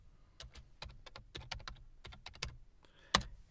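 Keys clatter on a computer keyboard in an uneven run of close, crisp taps with brief pauses, ending in one sharper keystroke, with no talking.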